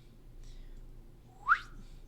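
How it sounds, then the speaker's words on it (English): A single short whistle, picked up loudly by the microphone during a recorded biology lecture, rises and peaks sharply for about half a second over a steady low background hum. "sorry for that whistle. Got picked up really aggressively."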